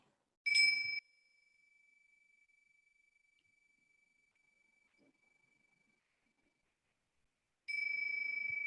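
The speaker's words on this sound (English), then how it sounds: "I'm going to ring the bell 3 times." A meditation bell is struck in a quiet mindfulness session, giving a bright, clear ding whose pure tone hangs and slowly fades for several seconds before a second strike rings out just as brightly, with no voices in between.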